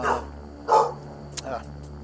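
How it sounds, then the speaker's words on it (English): A daughter's dog indoors lets out a few short barks near the door, with gaps of quiet between them, mixed with a person speaking. "So the dog that you guys heard is it's my daughter's dog."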